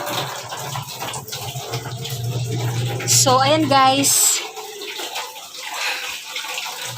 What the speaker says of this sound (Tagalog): Ito naman, isang planggana. Lagyan ng tubig.